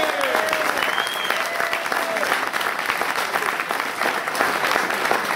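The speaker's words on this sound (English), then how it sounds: "And I think he deserves a round of applause." Warm applause at a Latin rock awards event honoring a fundraiser for Hispanic autism causes, a full crowd clapping steadily and loudly throughout, with faint cheers mixed in.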